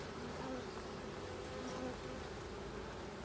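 Honeybees buzz in front of a Dadant-style hive with ten frames, a faint, continuous droning hum from many insects with no talk over it.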